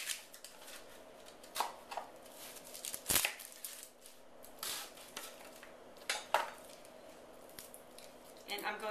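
An onion being cut and peeled on a baking dish, with sparse knife taps, crisp papery skin crackles and a sharp clack near the middle, all close by, while someone talks throughout.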